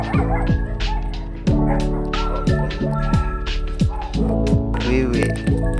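A Doberman guard dog barks in short bursts mixed with high whimpering yips, close and loud, the cries rising and falling over a low steady hum.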